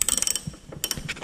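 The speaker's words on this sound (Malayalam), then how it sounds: "12 സൈസിൻ്റെ സ്പാനർ ഉപയോഗിച്ച് നിങ്ങൾക്ക് ഇത് ഊരിയെടുക്കാം." A size 12 spanner working a headlight bolt loose on a Hyundai Elantra, giving rapid metallic ratcheting clicks up close, then a few scattered clicks and a second short run of clicking.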